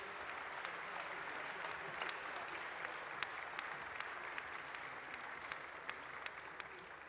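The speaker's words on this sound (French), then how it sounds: "Je vous demande d'applaudir." Sustained audience applause fills a French political plenary session, a dense, steady wash of many hands clapping at moderate distance with a few sharper claps standing out, no voices on top.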